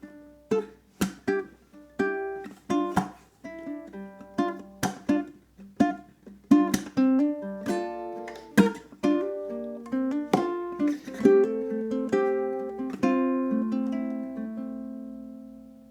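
A solo ukulele picks the opening four bars of a song, each plucked note ringing clearly and decaying in a steady melodic rhythm, close and alone with no talk.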